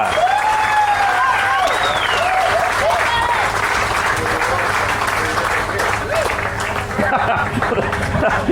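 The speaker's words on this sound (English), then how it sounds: "Let's have a huge round of applause for Smoke Central BBQ" A crowd at an outdoor barbecue contest awards event applauds and cheers a winning team, steady loud clapping throughout, with background voices and a whistle-like cheer mixed in.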